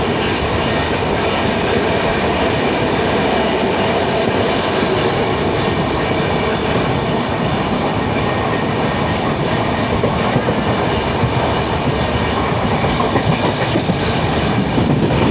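A train rumbles steadily through Paravur railway station, with loud continuous clickety-clack from wheels on rail across the whole stretch.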